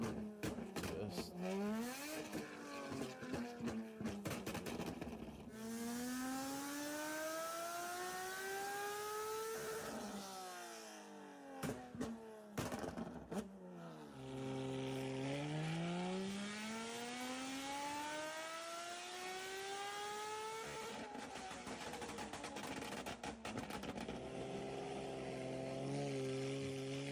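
Loud tuned Porsche 992 GT3 RS engine, heard up close, is revved again and again in long rising sweeps. Several sharp crackling gaps break up the high, screaming pulls, and there is no talk.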